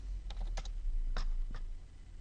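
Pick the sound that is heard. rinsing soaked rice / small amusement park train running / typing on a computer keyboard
typing on a computer keyboard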